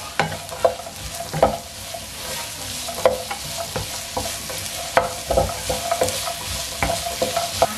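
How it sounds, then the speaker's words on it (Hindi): Peas, capsicum, carrot, cabbage and onion stir-fried for fried rice, with a steady sizzle and repeated sharp scrapes and clatters of a spatula tossing the vegetables close by, no voices. "अब हम सारी सब्जियां इसमें डाल के फ्राई कर लेंगे। मटर, शिमला मिर्च, गाजर, बंद गोभी, प्याज, इनको हम 3 से 4 मिनट के लिए पकाएंगे।"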